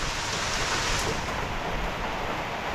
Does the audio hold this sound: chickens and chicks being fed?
no